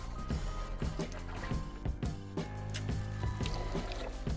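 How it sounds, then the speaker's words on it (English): The electric motor of an RC-Pro Sonic19 v2 radio-controlled boat running on a lake grumbles unevenly on a low battery, pulsing in rough repeated surges amid watery splashing. "this is when you know it's low on batteries. It starts to grumble"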